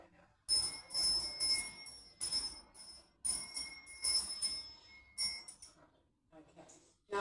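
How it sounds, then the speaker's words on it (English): A bell rung to clear the air, its bright, sustained tones struck several times in bursts over roughly seven seconds, ringing out fairly loud and close with brief gaps, alone without speech. "let me ring my bell to clear the air"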